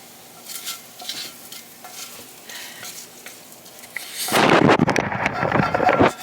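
Food dumped all at once into a hot cast iron pan while cooking a protein breakfast of eggs, bacon and sausage, bursting into loud, dense sizzling after a few seconds of quieter kitchen stirring and clatter.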